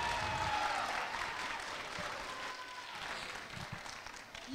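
Audience applause for a participating school, Liceo Santa Cruz de Laja, at a youth singing festival in a hall; a broad wash of clapping from a sizable crowd, moderately loud and continuous, with a few cheers and murmurs mixed in.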